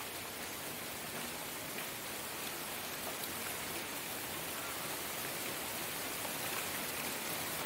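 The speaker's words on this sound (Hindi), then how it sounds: "सवेरे से बारिश रुक रुक के तेज हो रही है, थोड़ी देर रुक जाती है, फिर तेज हो रही है" Rain falls steadily on a muddy street in Burari, Delhi, producing an even, close, continuous hiss of drops that stays soft and unbroken throughout.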